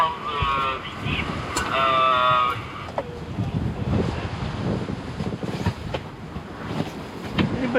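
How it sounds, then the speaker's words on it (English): Steady wind blows aboard a sailing boat at sea under an easterly breeze. Gusty rushing mixes with washing water throughout, and a voice is briefly heard near the start. "The wind comes from the east."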